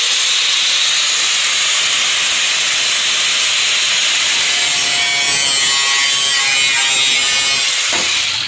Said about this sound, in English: I'm going to cut the plate off